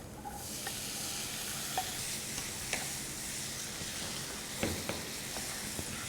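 Chopped tomatoes with turmeric, chili powder, coriander powder and salt sizzle steadily in a pan on the stove, with a spoon scraping through them in scattered clicks and scrapes over a constant frying hiss; no talking.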